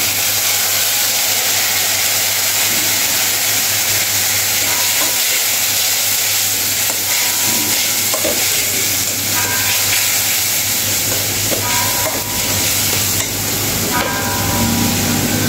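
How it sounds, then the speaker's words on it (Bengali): Spice paste with dry chilli powder cooking down in a pan with a splash of water, a steady broadband sizzle and frying hiss with occasional stirring scrapes, close and loud throughout over a constant low hum. "মশলাটা এখন ভালোভাবে কষে নেব। আমি দিয়ে দিচ্ছি সামান্য একটু জল।"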